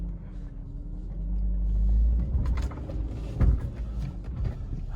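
A BMW E46 with a five-speed manual gearbox, a stiff clutch and badly worn rear trailing arm bushings, drives along with a steady low engine and road rumble heard from inside the cabin, swelling briefly and then settling.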